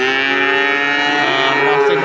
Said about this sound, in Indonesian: inilah sapi-sapi pipitan dari Pasar Sapi Pon Ambarawa.